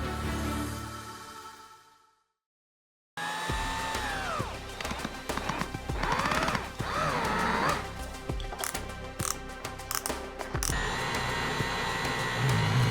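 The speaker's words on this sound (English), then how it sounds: "what I was doing was using the lapping tool" A small power lapping tool whines steadily at close range while building a silent hammer, cutting out briefly to silence before starting up again and running on with shifting pitch.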